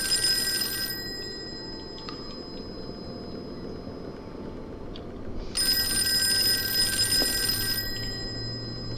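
A telephone rings in the Call of Cthulhu video game, two bright electronic rings separated by a pause, heard over a low, steady ambient rumble.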